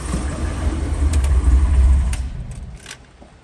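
A 1933 Ford Factory Five Roadster hot rod engine rumbles loudly in a showroom, deep low-end revving that swells and then fades away, leaving quieter background noise.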